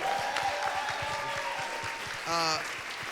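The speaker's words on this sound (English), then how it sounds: "how about a round of applause for our incredible host, Nikki M. James here" Applause from a theater audience for the host of a stage musical event, sustained clapping under a voice, with a tonal sung or spoken sound partway through.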